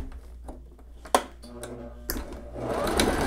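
Sewing machine stitching the edge of a folded hem on a child's dress, with a short burst of mechanical whirring that starts and stops, then a steadier run toward the end, close and fairly loud.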